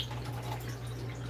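Water runs steadily from a tap while dishes are washed up in a home kitchen, a constant close hiss with no breaks and no talking.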